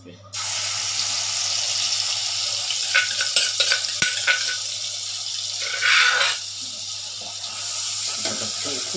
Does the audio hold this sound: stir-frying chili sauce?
yes